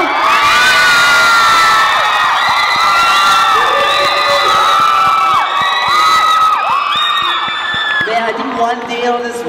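Large crowd at a drum contest final screaming, whooping and cheering in loud sustained waves full of high shrieks, with a voice talking near the end as the noise thins.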